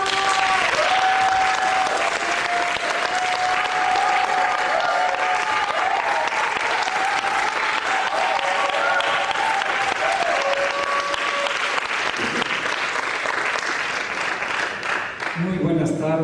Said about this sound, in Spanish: Quiero pedirles un aplauso a Leonardo Estrada.